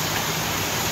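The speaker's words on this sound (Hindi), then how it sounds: "बहुत जोर से, बारिश चालू है।" Heavy rain pouring outside at night, a dense steady hiss of rainfall filling the whole second at an even, fairly loud level with no breaks.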